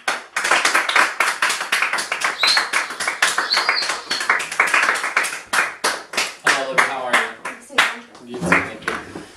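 A studio audience claps and applauds to welcome a guest onto a talk show, with dense, steady clapping filling the room for the whole stretch and a voice speaking over it near the end.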